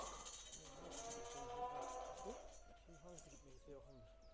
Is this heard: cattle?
yes